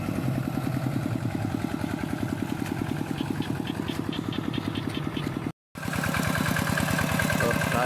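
A walk-behind two-wheel farm tractor's engine chugs in a fast, steady single-cylinder thump nearby, with a brief dropout before the running resumes unchanged.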